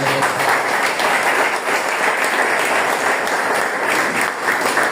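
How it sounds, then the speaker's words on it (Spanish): A church congregation claps together during a sermon, loud continuous applause filling the room evenly from start to finish. "Dale palmas al Señor."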